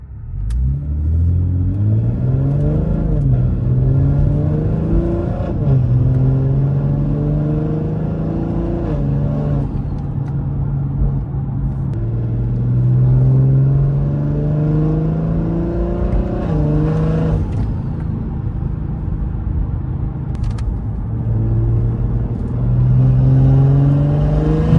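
A big-turbo BMW B58 inline-six revs loudly and continuously while driving, its pitch rising and falling through repeated gear pulls with no talk over it.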